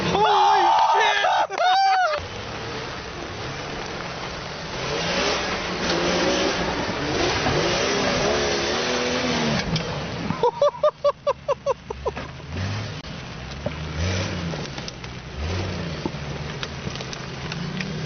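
Jeep engine revving hard while climbing a hill in the rain, loud straining roars and surges with rapid pulsing bursts, under excited talk and shouting from onlookers.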